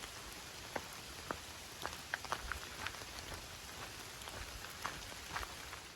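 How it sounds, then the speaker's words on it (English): Steady light rain patters on a rocky Appalachian Trail mountainside near Palmerton, with scattered individual drops ticking sharply over a continuous soft hiss. "the rain has backed off a little"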